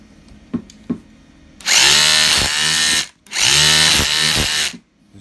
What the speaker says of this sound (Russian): Так, в режиме отбойный молоток.